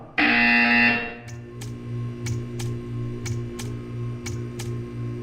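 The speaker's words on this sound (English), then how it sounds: "You will hear a buzzer. When you hear the buzzer, stare at the art." Buzzer in a Portal 2 video game test chamber, a loud harsh tone for about a second, then a low pulsing hum with soft ticks repeating steadily beneath.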